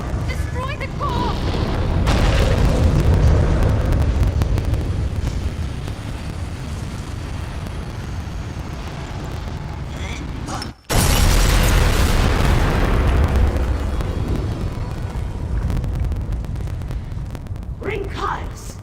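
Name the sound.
core exploding in the video game Elder Scrolls Online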